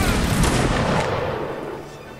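Musket gunfire in a Mount and Blade: Napoleonic Wars line battle, a loud, booming volley that rumbles and slowly fades over about two seconds.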